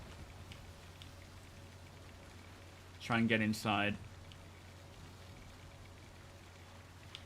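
Rain falling in the Star Citizen video game, a steady soft patter with a low hum beneath, while someone briefly speaks partway through.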